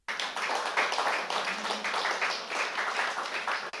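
Applause from a small crowd at a car showroom grand opening fills the room, a dense, fairly quiet patter of many hands clapping continuously, with no voices over it.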